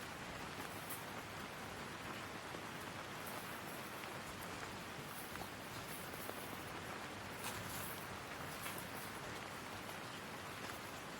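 Rain pours down over a Sydney backyard where soaked Silkie chickens stand still, a dense continuous wash of hiss that stays uniform and moderately loud from start to finish, with no talking.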